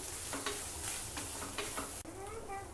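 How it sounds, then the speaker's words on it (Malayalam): Grated coconut and jaggery being sautéed in ghee in a pan, with a steady soft sizzle and repeated scraping stirs of a spoon against the pan, close and moderately quiet, no talk. "ഇതെല്ലാം നമ്മൾ നെയ്ക്കകത്താണ് വഴറ്റിയെടുക്കുന്നത്"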